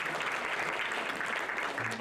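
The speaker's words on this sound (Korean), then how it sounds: "격려의 박수 해주시면 감사하겠습니다" A church congregation claps steadily throughout, a dense wash of applause at moderate distance.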